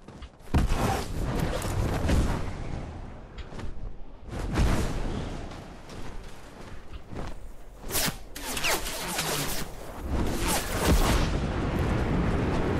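In the Fortnite video game, a player-built structure is destroyed by gunfire and explosions, heard as loud rushing bursts of crashes and whooshes separated by short gaps.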